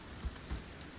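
Steady rain falls in the driving survival game Pacific Drive, a soft even patter with two dull low thumps partway through and no voices.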